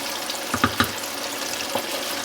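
Chicken wings deep fry in hot oil with a steady sizzling hiss, and a few louder pops and crackles rise briefly out of the bubbling.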